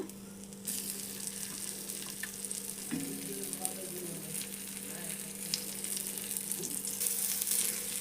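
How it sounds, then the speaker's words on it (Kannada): Okra (bendekai) re-fries in oil in a pan with a soft, constant sizzle. Occasional scrapes and taps of a utensil against the pan sound close by, and there is no talking. "ಈಗ ಇವು ರೀ ಫ್ರೈ ಮಾಡೋಕ್ಕೆ ಹಾಕೊಂಡಂತ್ರಿ"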